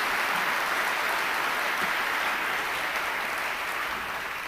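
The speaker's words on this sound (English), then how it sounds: "Let's give them all a big round of applause." An audience at a competition event applauds in a dense, steady wash of clapping that holds evenly for several seconds and tapers slightly at the end.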